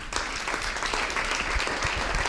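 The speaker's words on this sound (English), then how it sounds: "So give yourself a round of applause." A crowd claps steadily, a dense patter of many hands at constant loudness from start to finish, with no voices on top.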